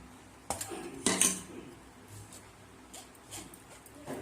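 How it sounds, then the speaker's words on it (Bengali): Mango pulp being poured and strained through a kitchen sieve, with a few sharp metallic clinks and scrapes of utensil against mesh and bowl, then quieter soft handling sounds; no speech. "এবার এই ছাঁকনিতে আমি এই আমের পাল্প অল্প অল্প করে ঢেলে ছেঁকে নেব"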